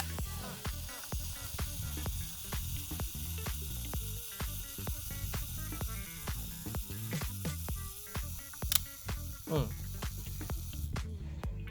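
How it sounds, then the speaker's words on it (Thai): A Yashica Electro 35 rangefinder camera's self-timer runs as a steady rapid mechanical ticking and buzzing close to the microphone, ending in a brief click near the end. "ทามเมอร์ทำงานนะครับ"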